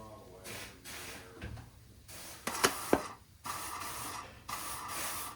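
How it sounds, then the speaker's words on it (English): Compressed air blasts through a car brake line at the master cylinder of a long-idle C3 Corvette, coming as several loud hissing bursts of varying length broken by brief clicks and knocks, close by. "blow some compressed air through it"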